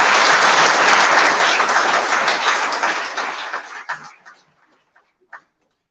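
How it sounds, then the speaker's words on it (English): Loud applause from the audience at the BIMTECH commencement ceremony, full and dense clapping for nearly four seconds that tapers into a few last scattered claps. "may I request all of you to give a big applause to this great beginning"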